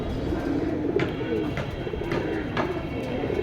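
Low, soft pigeon coos repeat steadily over a dense, noisy background at a pigeon sale, with a few faint higher chirps scattered among them.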